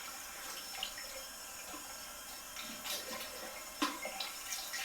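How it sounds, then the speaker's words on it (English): Soapy skin is rinsed with a little water, a soft, steady trickle of running water with faint splashes and a few brief sharper splashes near the end, close and quiet. "A little bit of water and just wash it around."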